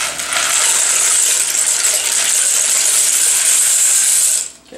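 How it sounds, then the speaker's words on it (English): A pound of dry pasta poured into a crockpot for mac and cheese makes a steady, loud rattling hiss of hard pieces tumbling for over four seconds before stopping abruptly. "We're gonna throw our pound of pasta in there."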